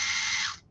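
A small RC Land Rover model's engine whirs in neutral with a high, buzzing mechanical ratchet-like whine for under a second, then cuts off abruptly.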